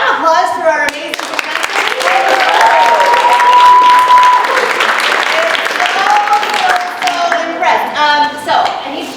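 An audience claps at a magic academy Shark Tank-style competition, steady dense applause filling the room with a few cheers, while a presenter keeps talking over it on a microphone.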